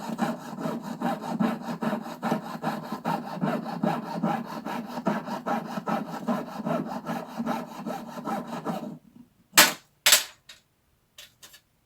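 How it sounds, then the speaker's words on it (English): A jeweler's saw rasps steadily through coiled metal wire to cut jump rings, a fast repetitive back-and-forth stroke for about nine seconds, then stops, followed by two sharp clicks. "So every time you saw one jump ring, your saw makes a notch on the following link just below"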